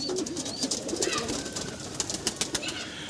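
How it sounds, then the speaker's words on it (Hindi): A prized pigeon from a Howrah loft cooing nearby, a low continuous throaty burble with a few soft wing-like rustles and sharp ticks over a noisy background. "बहुत लाजवाब और शानदार कबूतर है ये।"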